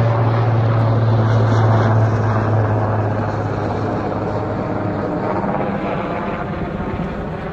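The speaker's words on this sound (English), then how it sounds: "This is another chopper." Firefighting helicopter flying over a wildfire, a loud continuous rotor and engine roar that stays close and steady throughout and dominates the scene.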